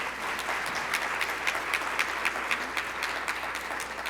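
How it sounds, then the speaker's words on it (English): Sustained applause from an audience at a Columbus Metropolitan Club forum at the Ellis, dense and steady with a few sharper individual claps standing out throughout. "Give them a big round of applause."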